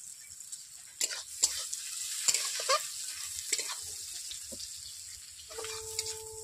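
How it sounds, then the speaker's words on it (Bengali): Onions frying in a pan for a leafy greens dish, a soft sizzle broken by several sharp scraping stirs of a utensil, close and fairly quiet, with a faint tonal hum near the end. "দেখতেই পাচ্ছেন পেঁয়াজগুলো আধো আধো ভাবে ভাজা হয়েছে"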